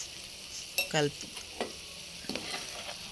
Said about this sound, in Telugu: సో ఇలానే మెల్లిగా కలుపుకోవాలి స్పూన్తో.